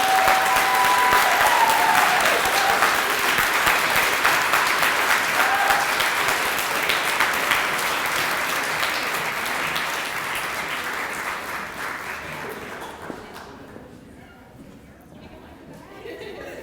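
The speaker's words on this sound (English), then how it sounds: "Let's give another round of applause for everyone tonight." An audience applauds at the Memphis Monologues 2020 live stage show. The long, loud clapping comes with crowd chatter and a few cheers, and it gradually dies away over the last few seconds.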